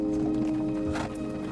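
Horses' hooves clip-clop faintly at a walk on a desert trek, the soft steps sitting under a steady low droning hum.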